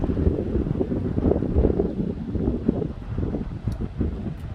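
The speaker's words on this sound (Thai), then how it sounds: "ลมก็พัดแหงเด้อค่ะ" Steady, strong wind roars and buffets the microphone for the whole stretch, a dense low rumble with no voices.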